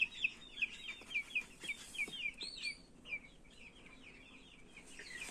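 Chicks about one and a half months old cheeping in quick runs of high, thin peeps that are fairly near and soft, with no talk.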